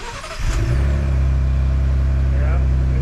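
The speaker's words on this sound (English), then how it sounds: "get a little listen of what it sounds like starting up with the muffler" A Ford Bronco's 2.7-liter EcoBoost V6 with a muffler turns over and catches, then settles into a steady, loud, low idle rumble close by, with a voice heard briefly over it.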